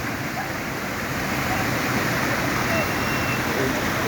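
A flooded river runs bank to bank at full spate, its rushing water making a loud, steady, unbroken roar that fills the whole stretch without pause.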